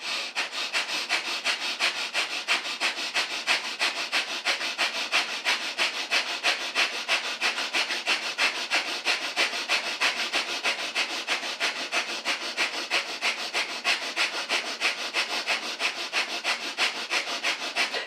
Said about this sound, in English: it's a sharp inhale to exhale through the nose, pumping the belly, Bhastrika or breath of fire